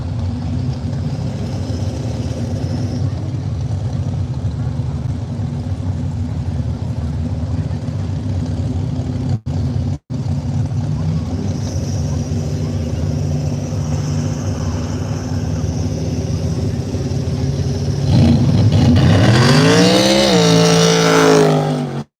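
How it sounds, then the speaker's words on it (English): A Chevrolet Silverado truck rolls up to a drag race starting line at an arm drop event, its engine humming steadily under loud crowd and announcer chatter, then revving sharply and climbing near the end. "Matthew Jackson, the Silverado, going to move his way up to the starting line"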